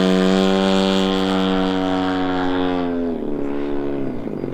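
A gas-powered 122-inch Seagull Models Super Decathlon RC airplane with a 60-85cc engine flies slowly overhead, its engine a loud, steady buzzing drone that drops slightly in pitch and eases near the end.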